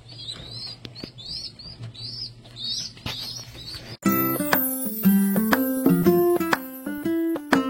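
Pet pigeons at a village pigeon farm chirping and cooing in short repeated calls, with occasional wing flaps, before loud music takes over halfway through.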